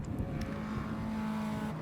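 A Lotus Elise race car at Donington Park gives a steady engine drone with a sustained tone, heard at a moderate distance and holding level through the short stretch with no talk over it.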